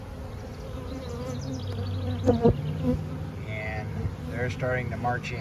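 Honey bees of a swarm buzz in a continuous drone at a Layens hive entrance outdoors, with someone talking close over the hum.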